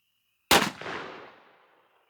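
A single close, loud shotgun blast from an NEF Pardner firing a Remington Game Load lead #6 shell at a 25-yard target, with a sharp report that decays into a rolling echo over about a second and a half.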